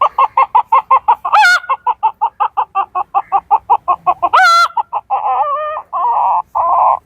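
A person mimics a chicken with a steady series of loud, close clucks, broken twice by sharp squawks, and ends with a few longer drawn-out calls.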